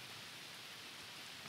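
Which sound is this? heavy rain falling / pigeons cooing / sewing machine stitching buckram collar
heavy rain falling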